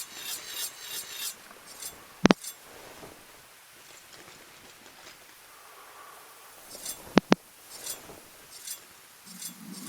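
A rasp carving wood in the video game Dark Souls, with quiet scraping strokes and rubbing broken by a couple of sharp metallic clinks.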